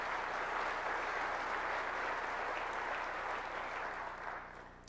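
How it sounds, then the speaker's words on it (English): Conference audience at a Black Hat security talk gives sustained applause, a dense, even hiss of many hands clapping from a distance, fading slightly at the end. "let's give a big round of applause for Black Hat"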